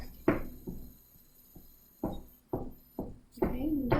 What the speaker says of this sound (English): I'm gonna put my hand up against the wall, and then I'm gonna knock.